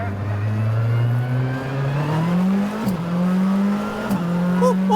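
A Renault R5 rally car accelerates hard, its engine note climbing steadily then dropping briefly at two gear changes before rising again, loud and close, with faint voices in the background.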